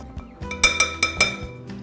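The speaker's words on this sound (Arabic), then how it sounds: "هلا هخلط كل الاغراض" A spoon clinks repeatedly against a bowl while berry pie filling is stirred with sugar and a little cinnamon, giving bright, rhythmic metallic taps, close and fairly loud.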